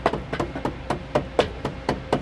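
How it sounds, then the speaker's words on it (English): A hammer taps a metal bracket in a steady series of about ten sharp, light strikes, evenly spaced and close by, with no talking. "Now we can use our hammer to tap"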